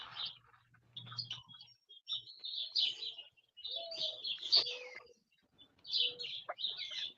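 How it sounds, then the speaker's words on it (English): Small birds tweet and chirp in bursts outdoors, clear bright calls coming in overlapping phrases with short quiet gaps between them, no voices. "I can hear all the little birds tweeting."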